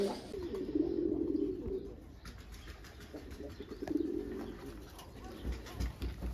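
Tumbler pigeons coo in a loft in Gebze, with two soft, throaty rolling coos a few seconds apart over faint background noise and light rustling.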